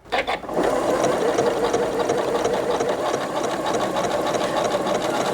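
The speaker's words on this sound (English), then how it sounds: "As I'm sewing along, I can touch my auto lock, and it will complete the pattern with the taper that I gave it." A Janome S9 sewing machine stitches a tapered pattern in a fast, even mechanical whir with rapid needle clatter, close and loud, after a few brief starting taps.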